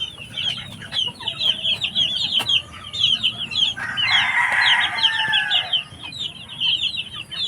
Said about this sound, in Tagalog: Ito mga sisiw to.